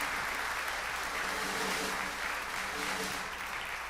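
A standing church congregation applauds during a Sunday service, a steady broad wash of clapping filling the room for the whole stretch, with faint voices mixed underneath.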